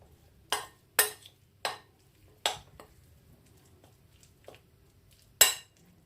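A spoon clinks against a bowl while sandwich filling is mixed with tomato ketchup, six or so sharp separate taps spaced irregularly over a quiet background.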